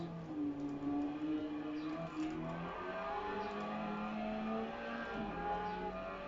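A Lamborghini Veneno engine in Gran Turismo 7 drones steadily with shifting, rising pitch as it accelerates, accompanied by other race car engines at a moderate, continuous level, with no speech.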